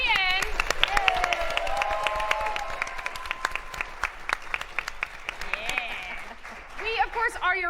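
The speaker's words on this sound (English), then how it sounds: "A big round of applause to our amazing special guests, Bonnie and Fabienne." Audience applause and cheering at a live tabletop RPG show at GenCon 2019, steady clapping throughout with whoops and voices mixed in, briefly thinning near the end before a last burst.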